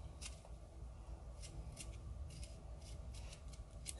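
Metal spoon scraping the peel off fresh ginger root for a hibiscus zobo drink, a series of soft, rhythmic rasping scrapes repeated close by at a steady pace, with no talking.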